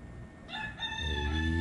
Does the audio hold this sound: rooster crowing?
yes